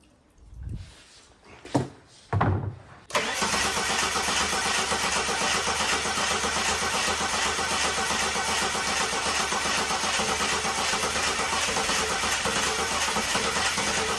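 An XE Ford Falcon barn find with a fuel problem cranks in a few short bursts, then catches and runs roughly at a steady, loud idle that carries on to the end.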